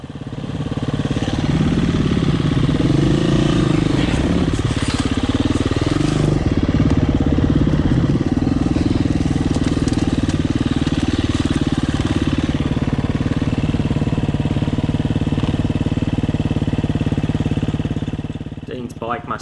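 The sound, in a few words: dirt bike engine idling and stalling on enduro trail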